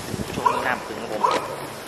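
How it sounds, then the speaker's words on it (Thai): Two dogs bark at a man out fishing for snakehead and frogs by the water, giving a couple of short, fairly close barks mixed in with his talking. "มาสองตัวนี้มันก็ยังเห่าผม"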